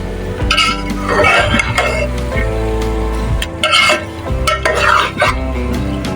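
A spoon stirs lauki and chana dal sabzi in a pan, scraping steadily and close by in uneven strokes over a light sizzle, with no talking.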